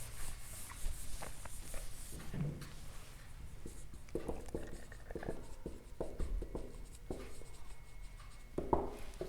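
Marker or chalk strokes on a board during a maths lecture, with scratchy, irregular writing sounds and soft taps, fairly quiet and close, without talk.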